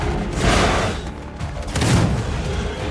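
Gunfire in the online role-playing game Ashfall, two dense bursts of booming shots about a second apart, loud and close, with rumbling in between.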